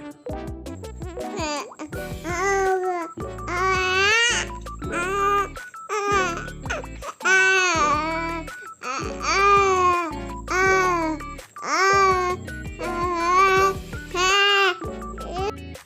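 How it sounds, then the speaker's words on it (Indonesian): A baby of about four to six months babbles strings of drawn-out vowel sounds with rising and falling pitch, close and fairly loud, in repeated bursts over a steady background hum. "Bayi umur 4 sampai 6 bulan itu bisa mengeluarkan bunyi vokal dan mencoba meniru suara yang mereka dengar"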